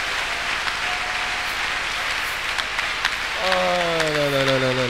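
A church congregation applauds in a steady, dense wash of clapping, with a voice rising over it near the end.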